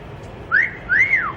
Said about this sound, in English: There's your whistle.